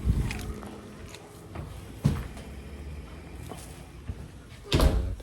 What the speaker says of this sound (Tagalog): Nila ko na kagad yung pinto.